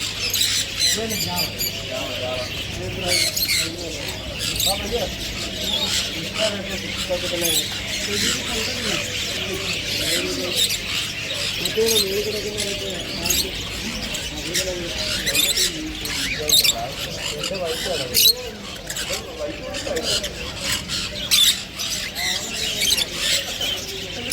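Harsh parrot squawks and chattering calls repeat throughout, nearby and fairly loud, with people talking underneath.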